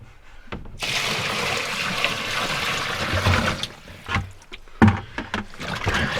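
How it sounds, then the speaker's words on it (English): Water is dumped into a portable washing machine in a van, a steady loud splashing pour that runs for a few seconds, then breaks into sloshing bursts and knocks, with no talk. "So I just dump water in."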